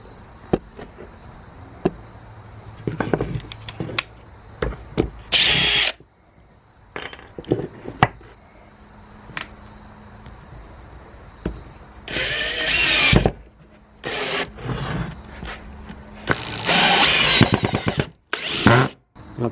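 DeWALT 20V drill and impact driver driving screws into wood, cracking it, heard as repeated short bursts of motor whir and rattling with clicks and knocks between, close and fairly loud.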